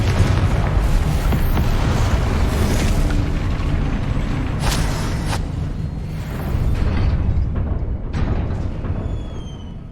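A Confringo blasting spell in Hogwarts Legacy erupts in a heavy, sustained rumbling boom with scattered sharp cracks and debris, loud and continuous with no talk.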